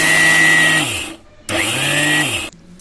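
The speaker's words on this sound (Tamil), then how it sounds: "இப்போ இந்த எள்ளை பூரா ஒரு மிக்ஸி ஜாரில் போட்டு இப்போ நல்லா நுணுக்கிக்கலாம்" An electric mixer grinder pulses roasted sesame seeds in its jar, giving two loud, close bursts of about a second each with a brief pause between them.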